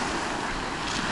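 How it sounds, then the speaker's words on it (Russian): Strong wind roars across the seashore at Gelendzhik on the Black Sea coast, a brief, loud, unbroken rush of blustery noise buffeting the microphone. "Такой сильный ветер, вообще просто прям нереальный."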